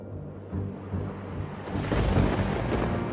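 A thunderstorm over the Colosseum in Rome pours heavy water down, a deep, grumbling rumble that swells from a moderate level to a louder, fuller roll over a few seconds.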